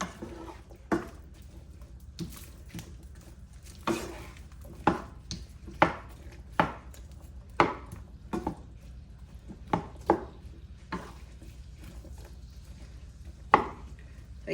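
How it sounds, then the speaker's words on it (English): In a Jamaican kitchen making sweet and sour shrimp, a knife presses down on ginger, giving repeated dull knocks and taps against a board at irregular intervals, moderately close and with no voices. "you just want to press down on your ginger so it can give you that nice flavor"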